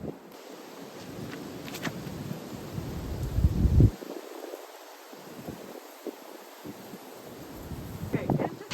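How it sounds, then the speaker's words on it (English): Strong wind gusting outdoors at a disc golf throw, buffeting the microphone with a rumbling roar that surges and drops, plus rustling; a voice talks intermittently. "Let's see what it does when not hit with one of the most intense wind gusts of all time."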